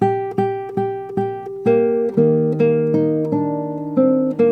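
A guitar picks out the chorus melody of a song in an easy fingerstyle arrangement, notes plucked one after another in a steady rhythm, close and clear with no singing.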